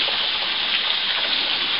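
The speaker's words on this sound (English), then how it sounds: "the first waterfall we saw." Waterfall on the Waterfall Circuit at South Lawson in the Blue Mountains, a loud steady rush of falling water, close and constant, with no voices.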